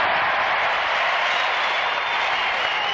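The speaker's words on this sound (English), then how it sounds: "a very vocal crowd here at the Hartford Civic Center" A vocal college basketball crowd at the Hartford Civic Center roars and cheers steadily, a dense, continuous wash of voices and clapping filling the arena with no breaks.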